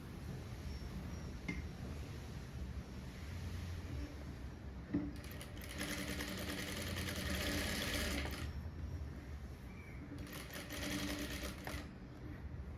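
Sewing machine stitching a saree border onto a blouse, a low mechanical hum with two louder bursts of fast running, near and moderately quiet, with no speech.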